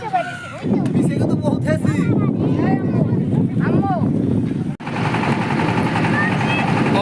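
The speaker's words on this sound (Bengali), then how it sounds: "অবশেষে আমাদের নৌকাটি চলতেছে" A boat engine chugs loudly and steadily as the boat moves, with voices talking over the rumble and wind buffeting the microphone.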